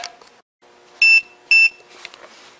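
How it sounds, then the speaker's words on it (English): A multimeter set to continuity mode emits two short, loud, high-pitched electronic beeps about half a second apart, with faint handling clicks and quiet background noise around them. "I've got it on the alarm, so it'll alarm if it gets continuity"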